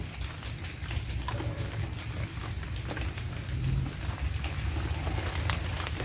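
Heavy rain pours steadily on an outdoor rural fishing spot during a storm, a dense continuous hiss with no one speaking.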